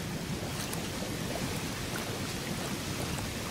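Water pumps in Doñana drawing water out of the dry northern marshes, a steady broadband rushing drone with a low rumble that holds constant and fairly faint throughout, with no voices.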